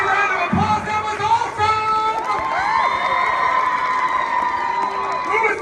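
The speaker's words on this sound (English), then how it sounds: "Please give a big round of applause" Comic-Con 2018 panel audience cheering and applauding for the Miraculous Ladybug show, a loud crowd roar with high excited shrieks and whoops over scattered clapping, filling the whole stretch.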